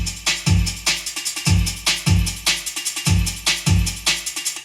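A resampled jungle breakbeat drum loop made in FL Studio punches out sharp kicks and snares in a fast syncopated repeating pattern, loud and dry, with no voices.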